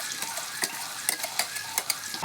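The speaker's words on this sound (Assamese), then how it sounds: "এতিয়া মই অলপ সময় ভাজি লৈছোঁ জলকীয়াখিনি" Ground chili paste fries in hot oil with a soft, steady sizzle, while a spoon stirs it with sharp, irregular scrapes and clicks against the pan. The sound is fairly quiet and close, with no talking.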